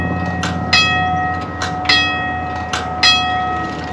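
Railroad wigwag crossing signal running with a steady, repeating electric bell clang about every 1.2 seconds, close and loud, with no voices.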